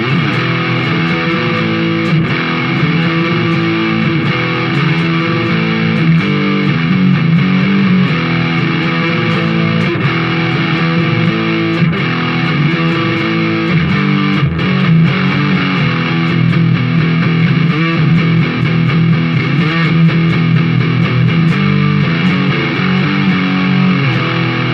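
A cheap 30-quid electric guitar plays through heavy distortion, with loud sustained riffs and chords ringing continuously and a dense, fuzzy tone, with no talking over it.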